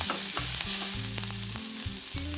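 Fresh coriander is stirred into a hot tempering in a pan for a pearl millet dosa batter, giving a steady close sizzle and frying crackle broken by short scraping stir strokes.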